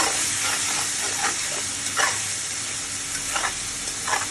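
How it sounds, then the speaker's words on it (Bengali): Meat frying in a pan while being stirred, a steady close sizzle punctuated by several short scraping stirs of the spoon at irregular moments, with no speech. "মাংসটা ভাজা ভাজা হয়ে গেছে।"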